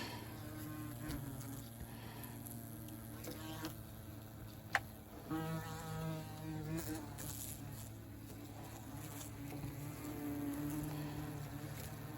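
Yellow jacket wasps swarm around a nest just pulled from its spot, a steady droning buzz with several individual wings whining closer and fading, over constant low background hum.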